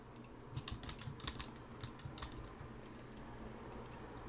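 Quick bursts of typing on a computer keyboard, soft close clicks in short uneven runs that fade to quiet near the end, with no talk.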